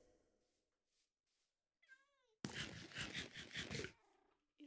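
A cat meows a few times early on, rising and falling, before a burst of loud noisy sound takes over the second half.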